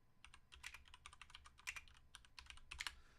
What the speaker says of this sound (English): I apologize about my clicky keyboard.